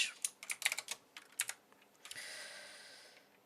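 Code being typed on a computer keyboard, with quick clusters of close, crisp key clicks followed by a softer, steadier rattle of keystrokes.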